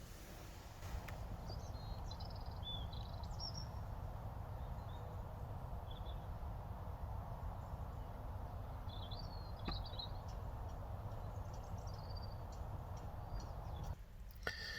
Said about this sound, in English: I don't know if you can hear the birds sing.